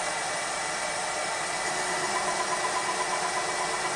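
Valve seat cutter cutting into a Minneapolis-Moline G1000 cylinder head seat, a steady continuous whirring machining drone that holds even and loud for the whole stretch with no talking.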